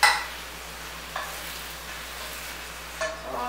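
Tofu pan-frying in oil for braised tofu, a quiet, steady sizzle with a few soft stirring or turning clicks near the start and end.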